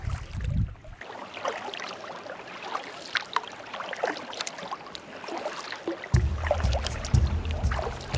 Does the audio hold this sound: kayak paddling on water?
yes